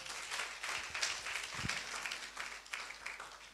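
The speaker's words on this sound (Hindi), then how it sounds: "एक बार ताली बजाएंगे यीशु मसीह के लिए।" A church congregation at a Friday youth prayer meeting claps together for Jesus, a dense run of rapid applause with no one talking, lasting a few seconds.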